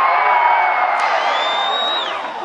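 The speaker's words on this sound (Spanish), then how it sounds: "yo les quiero pedir que me acompañen a gritar un Kamehameha" A crowd at a fan event in Asunción, Paraguay yells together in a loud sustained shout that trails off after a couple of seconds, a massed group voice filling the room.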